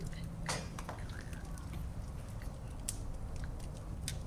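A person uses their mouth to imitate a crackling fireplace fire, making quiet, irregular pops and sputtering clicks over a low background hum.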